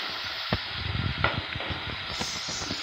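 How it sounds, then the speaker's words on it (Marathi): Cabbage being sautéed and stirred with masala in a pan for a dry cabbage bhaji: a soft, steady sizzle with repeated spoon scrapes and light knocks against the pan, close and moderately quiet, with no talking. "आता व्यवस्थित परतवून घ्यायचे, मिक्स करायचं ते मसाला सगळा."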